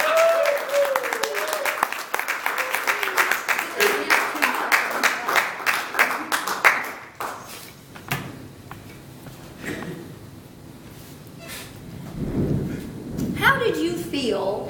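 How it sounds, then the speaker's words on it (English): Audience applause at an evening speech event greets a speaker with a standing ovation, a dense roar of clapping that runs strong for about seven seconds, then thins and fades to scattered claps and faint murmuring before a brief swell near the end. "a round of applause"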